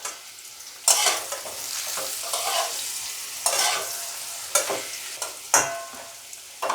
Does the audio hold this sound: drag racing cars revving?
no